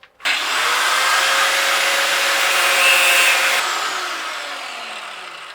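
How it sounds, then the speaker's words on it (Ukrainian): A loud, steady high-pitched whine of an angle grinder cutting metal on a mini tractor, sustained for several seconds without pause before easing off slightly at the end. "Беремо болгарку."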